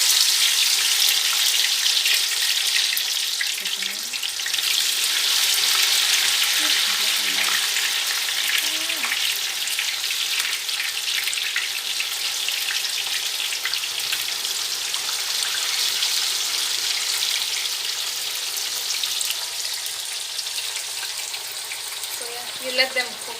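Potatoes sautéing in hot oil in a frying pan give a bright, steady sizzle throughout, close and even, with faint clinks and stirring now and then.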